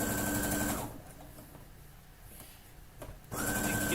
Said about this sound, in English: we'll go ahead and back stitch.